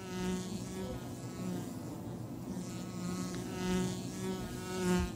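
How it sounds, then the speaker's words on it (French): Wasps invading a wild bee colony in a forest tree hollow make a constant, close buzzing drone of many wings, rising and falling slightly in loudness, with no voices. "Des guêpes envahissent la grotte et dévalisent les derniers stocks."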